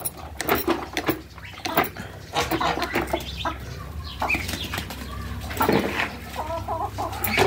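Farm birds fill the clip: chickens cluck and call close up, with bursts of wing flapping scattered throughout, ducks kept nearby.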